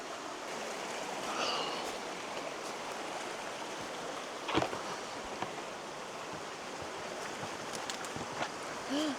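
A mountain creek in Arizona's wet White Mountains flows steadily, a continuous close rushing wash of water with no pauses, joined by a few faint brief knocks.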